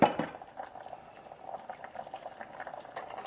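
Thai mushroom and coconut milk soup simmering low in a pot, a soft continuous bubbling and liquid burble heard close and fairly quiet, with no talking.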